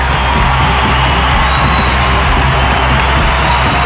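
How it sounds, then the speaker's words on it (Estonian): Wrestling arena crowd applauding and cheering loudly as the wrestler Super enters the ring, a steady dense roar of claps, whoops and shouts throughout. "aplaus on meeletu"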